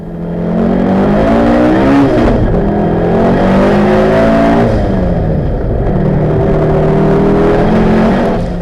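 A loud race car engine roars continuously under hard acceleration uphill on the Cedar Straight of a British speed hillclimb course, pitch climbing and dropping through gear changes, close and dominant throughout.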